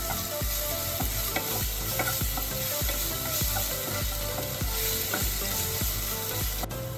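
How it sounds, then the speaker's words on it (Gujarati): Ginger-chili paste and asafoetida sauté in hot oil for a Gujarati stuffed raw tomato curry, giving a loud, steady sizzle with regular rhythmic scrapes and clinks of a spoon stirring the pan, no voices. "આદુ મરચાંની પેસ્ટ બનાવીને રાખી છે એ એડ કરશું આપણે ને આ રીતે સરસ મજાની આપણે સાતરી લઈશું તેલમાં જ"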